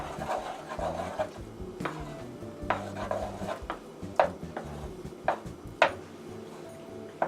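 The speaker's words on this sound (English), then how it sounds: "put half of the mixture and press it down into this pan" A sticky Reese's rice crispy treat mixture pressed down into a pan, with scattered scraping and knocking clicks of a utensil against the pan under a low room hum.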